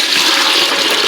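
Steady rushing water, a continuous close pour or gush lasting about a second with no pauses.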